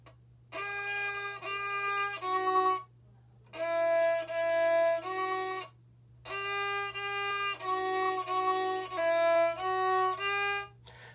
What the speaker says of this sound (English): down and up played with the bow is gonna sound like this